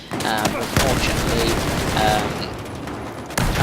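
Dense, continuous gunfire from a Battlefield 4 Conquest match on the Siege of Shanghai map, with rapid overlapping shots and bursts forming a loud, steady barrage and a sharp blast near the end.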